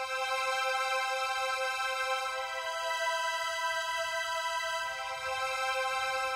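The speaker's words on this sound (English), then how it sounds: "So it's a chord-based string harmony" A Korg keyboard pad holds a chord-based string harmony from the orchestra bank, smooth sustained bowed-string chords at an even level with a subtle shift near the end.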